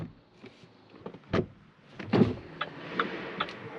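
Door of a Leapmotor C11 electric car being opened, heard as a few close clicks and thumps of the latch and handle followed by a low rustle as the door swings.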